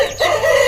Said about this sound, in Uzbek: 20 kunlik jo'jalar.